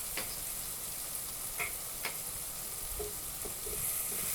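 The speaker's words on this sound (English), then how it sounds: "I'm gonna mix it well and cook it for little bit" Spices and masala sizzle in a pan while jackfruit fries, a soft, steady hiss with a few faint stirring clicks and taps, close and quiet.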